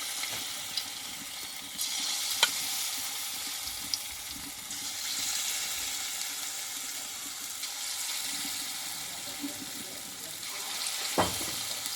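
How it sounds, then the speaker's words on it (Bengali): Small potato snacks deep-fry in oil, giving a soft, continuous bubbling hiss with occasional light clicks and taps. It is faint and steady throughout. "বাকিগুলো একই পোষে ভেজে নেবো আমি"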